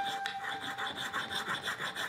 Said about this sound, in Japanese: 乾いた地を削る。